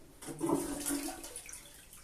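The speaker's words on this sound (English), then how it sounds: "So let's flush it and see what it does first." Toilet with a faulty syphon giving a weak partial flush: a short, soft gush and trickle of water, faint and brief, fading out quickly with no talk.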